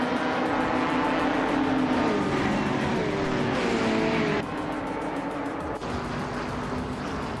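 Ferrari 488 GTE race car from 2018, sim-racing game, engine roaring steadily at high revs with gear changes and shifting pitch throughout, loud and continuous with no talk.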